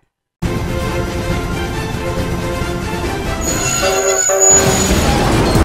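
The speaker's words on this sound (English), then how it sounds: "She travels on a toy train." Toy train runs with a steady rumbling, rattling drone, and a short high whistle-like tone comes near the end, close and continuous without talk.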